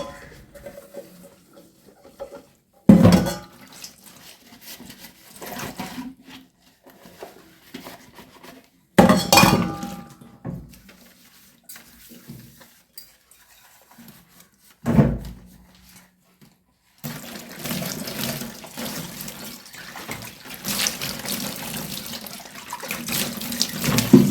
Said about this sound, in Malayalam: ഞാൻ ആദ്യം ഈ പാത്രങ്ങളൊക്കെ കഴുകി വെക്കട്ടെ